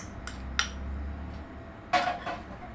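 Pickle spices, including chilli powder, are mixed in a bowl with a spoon, giving a few quiet clinks and scrapes of metal against the dish in a hushed kitchen.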